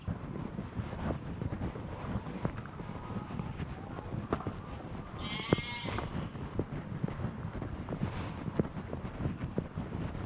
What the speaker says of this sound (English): a break in all the sheep noise